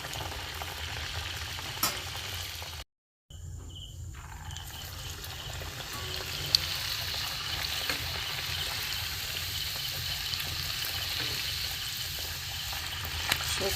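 Green drumstick-leaf puris fry in hot oil, a steady close sizzle and bubbling hiss broken by a brief silence before the frying resumes.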